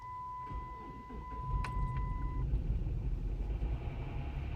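A Chrysler 3.5L V6 engine, just fitted with new spark plugs, cranks and catches, settling into a loud, steady rumbling idle close by, with a brief electronic chime at the start.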